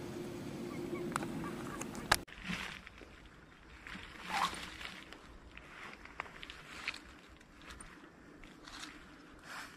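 Distant honking calls from ducks in open country during a long-range duck hunt, scattered across a quiet outdoor background with faint rustling and footsteps.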